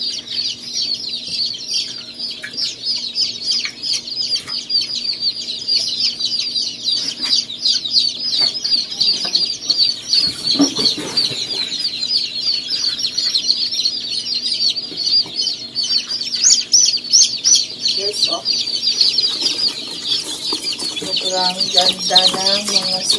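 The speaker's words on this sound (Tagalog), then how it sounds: "Ganda ng mga sisiyo." A crowd of newly hatched chicks chirps nonstop in an incubator, with dense, high peeping from many birds close by and brief handling sounds and a low voice partway through.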